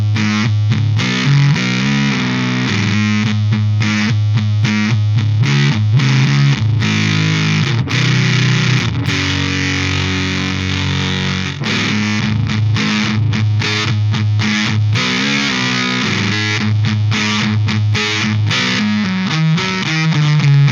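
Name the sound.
guitar through Swollen Pickle fuzz pedal, scoop off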